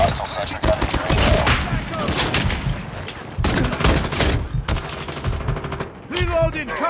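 A hostile sentry gun in a first-person shooter video game fires rapid, loud automatic bursts in long stretches with brief pauses, and other game sounds mix in.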